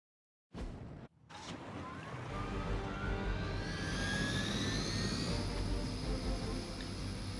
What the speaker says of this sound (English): Disable the Hydra helicopter before it can depart.